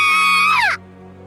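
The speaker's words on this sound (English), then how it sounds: "Then we let out a scream." Two girls let out a fake, high-pitched scream together, loud and sustained, then sliding downward and cutting off abruptly.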